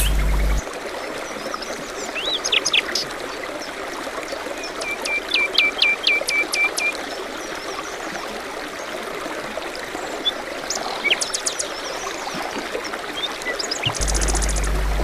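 A small forest stream babbles and trickles steadily throughout, with a few bird chirps and calls breaking through the water noise.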